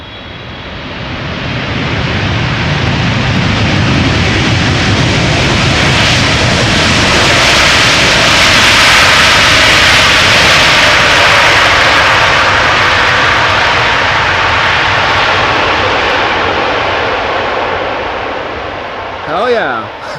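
An airliner lands at Amsterdam Schiphol Airport, a loud broad jet roar that swells over several seconds, holds, then fades, with a brief voice near the end.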